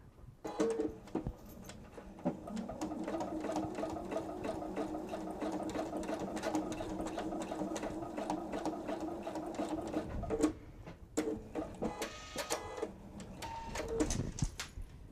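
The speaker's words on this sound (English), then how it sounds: "This time we're going to sew from the back side." A sewing machine stitching a wallet, a fast steady whirring rattle of the needle running for about ten seconds, then stopping and restarting in shorter bursts, close up with no talking.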